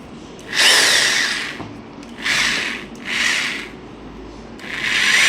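A BUILDSKILL 850W SDS+ rotary hammer drill runs in four loud, close bursts, each a steady buzzing whine of about a second with short pauses between them.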